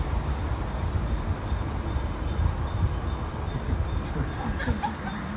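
A 12-car Mumbai local train bound for Churchgate rumbles steadily along platform 2, its continuous roar filling the space with no distinct pauses.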